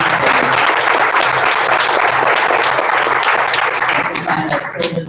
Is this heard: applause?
yes